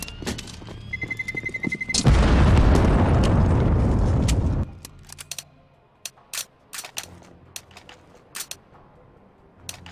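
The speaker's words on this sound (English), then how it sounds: "It's going to explode." A bomb detonates in the video game CS:GO: a sudden loud, roaring blast that sustains for nearly three seconds before cutting off, followed by scattered sharp in-game clicks and taps.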